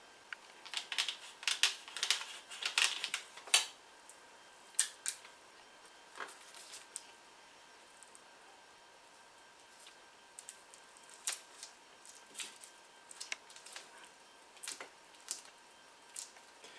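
Epoxy wood putty kneaded and mixed by hand, giving soft squishy, sticky clicks and crackles in irregular bursts, busiest early on and thinning to sparse ticks later, close and quiet with no voices.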